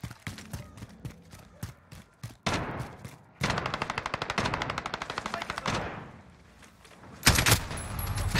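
PC shooter game gunfire: sharp single shots early, then long rapid automatic bursts with a steady rattling rhythm, a brief lull, and a loud final burst, close and punchy.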